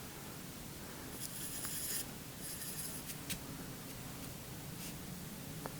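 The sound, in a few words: pen drawing a Ramadan lantern on paper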